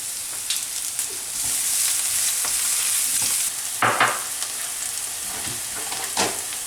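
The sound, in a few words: onion and garlic sautéing in olive oil in a hot pan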